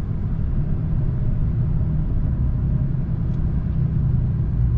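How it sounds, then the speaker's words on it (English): A 2020 RAM 3500 dually pickup towing a heavy trailer slows on its exhaust brake, giving a loud, steady low engine rumble that holds evenly throughout with no talking. "I'm just gonna let the exhaust brake do its thing."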